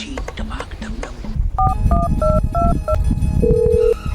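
A quick series of electronic telephone keypad tones, each a short two-note beep, following a brief stretch of someone talking.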